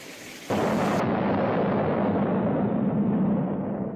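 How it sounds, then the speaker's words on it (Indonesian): A bomb explosion sound effect standing for the atomic bombing of Nagasaki: one sudden loud blast, followed by a long, deep, rumbling roar that slowly fades. "Tanggal 9 Agustus 1945, Jepang kembali dijatuhi bom oleh Sekutu, tepatnya di kota Nagasaki."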